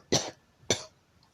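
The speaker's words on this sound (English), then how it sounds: "He's coughing way too much." Two short, sharp coughs about half a second apart, close and fairly loud, with quiet in between.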